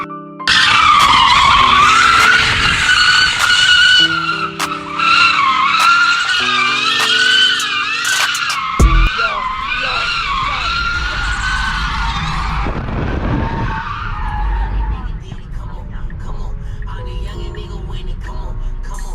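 A Tesla Model 3 Standard Range Plus drifts with loud, sustained tire squeal that wavers in pitch for most of the run, then falls away into rumbling road and motor noise near the end.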